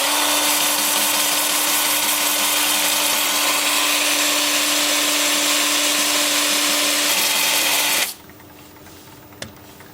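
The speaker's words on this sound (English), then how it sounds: "The lathe is spinning in reverse at 340 RPM." Wood lathe spinning in reverse at 340 RPM, a steady loud motor whir with a constant hum, running alone for about eight seconds before cutting off abruptly into near silence with a small click.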